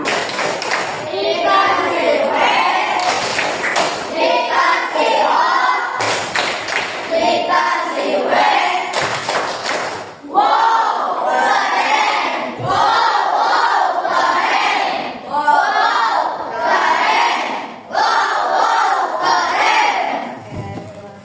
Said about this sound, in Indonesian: Yuk, kita untuk semuanya kita kasih tepuk wow dulu. Tepuk wow.